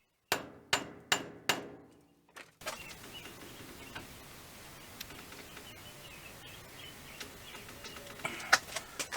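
Hammer blows try to drive a rusted, seized slide pin out of a bracket on a 2007 Jeep Wrangler JKU Rubicon, with four loud ringing metal strikes close up, followed by quieter outdoor ambience and faint scattered clinks.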